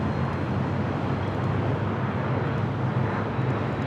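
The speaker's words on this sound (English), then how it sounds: "Checking in the United Airlines flight 802, come out from Hong Kong, 787-9 Dreamliner." A United Airlines Boeing 787-9 Dreamliner arriving at Los Angeles airport from Hong Kong makes a steady, broad jet roar that stays loud and even throughout, with no voices.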